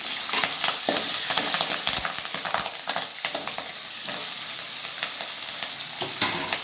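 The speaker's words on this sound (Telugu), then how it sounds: "సోంపు వేసుకున్న తర్వాత పచ్చిమిర్చి చీలికలు వేసుకోవాలి." Green chili slits frying with fennel seeds in hot oil for a hotel-style potato curry, a steady close sizzle with scraping stirs and brief crackles throughout, no voices.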